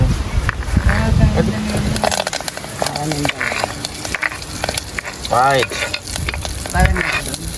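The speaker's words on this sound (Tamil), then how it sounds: "முதல் பெருஞ்சீரகம் வெங்காயம் பெருஞ்சீரகம் வெங்காயம் எல்லாம் போட்டு வதக்கணும்" Onions and fennel seeds sauté in a pan with a steady sizzle and frying crackle, broken by scraping stir strokes, while a person talks over the cooking.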